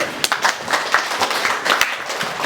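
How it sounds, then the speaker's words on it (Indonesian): A classroom of students claps in a short burst of scattered, uneven hand claps, fairly close and lively, with faint voices mixed in. "tepuk tangan dulu."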